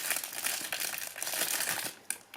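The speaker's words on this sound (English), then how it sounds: "Sorry for the crinkling." Plastic packaging crinkling close up, a steady crackly rustle for about two seconds that stops, then one more brief crackle.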